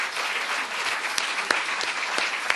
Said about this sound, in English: So can we give a round of applause to all of the sports winners